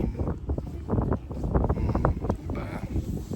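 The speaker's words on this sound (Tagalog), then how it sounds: "Narinig ba yung tunog ng hangin?" Steady mountain wind on Säntis, Switzerland buffets the microphone, a low rumbling roar with gusty fluctuations throughout, loud and close.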